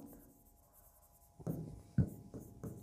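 Chalk or marker strokes on a classroom board during a chemistry lesson on atomic structure: a few short scratchy writing bursts, fairly close, with no talk over them.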